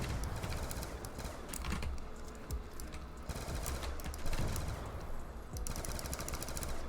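Rapid automatic gunfire from a Black Ops 2 zombies game rattles on continuously, dense bursts of shots layered with clattering game sounds throughout.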